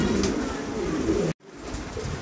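A pair of pigeons coos in low, throaty bursts, steady and fairly loud and close. The cooing cuts off abruptly near the middle, then resumes a little quieter.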